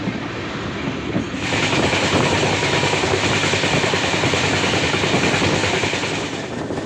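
The 12346 Saraighat Express from Guwahati to Howrah rumbles steadily from inside a sleeper-class coach, a loud continuous roar with a rhythmic clatter of wheels on rails and rushing wind throughout.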